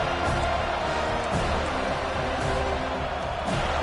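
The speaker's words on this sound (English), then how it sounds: "Decibels rising as the crowd gets behind this defense on third down." A dense, roaring crowd at a football stadium on third down, cheering in a sustained wall of sound that stays loud and unbroken throughout, with no clear single voice standing out.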